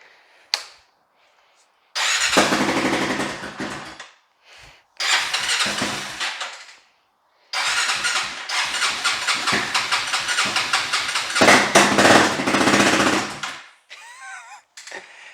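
A Honda 400EX ATV with an unreliable battery and a carburetor needing cleaning cranks in several loud bursts separated by pauses, then catches and runs with a rough, uneven idle close by.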